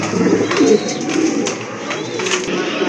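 Several low, rolling coos from a pair of pure white fancy pigeons sound close by, overlapping one another above a faint background murmur.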